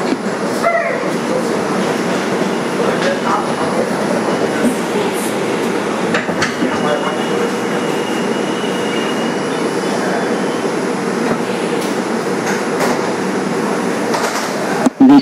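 A 2001 Bombardier subway car on the 2 train runs along the IRT White Plains Road line, with a loud, steady rumble, rhythmic wheel clatter and occasional sharp clicks, heard from inside the car.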